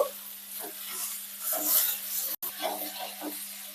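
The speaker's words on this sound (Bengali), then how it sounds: "এবার আমি একটু লো টু মিডিয়াম করে দিয়েছি, দিয়ে আরো 3 মিনিট ভাজবো" Okra frying in a pan over low to medium heat gives a steady close sizzle, broken by soft scrapes and rustles as the pieces are stirred, with one brief dropout midway.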